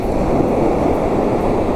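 Ocean waves roll onto a beach after a storm, a loud, steady wash of surf with a broad roar and no breaks, close by and alone.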